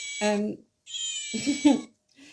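Two electronic meows from a Build-A-Bear toy cat, each a short, high, tonal cry separated by a brief pause.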